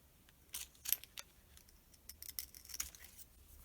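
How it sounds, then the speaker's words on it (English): Scissors snip a small piece off a stationery item, giving a few quick, close, crisp cuts with light paper rustling between them. "We'll cut a little piece of this off."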